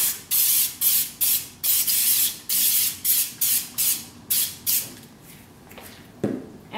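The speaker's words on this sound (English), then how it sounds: "I'm gonna use non-aerosol spray paint" Rapid hissing bursts of a non-aerosol pump spray paint sprayer, about a dozen short sprays in quick rhythm, close up, then a pause and a final spray.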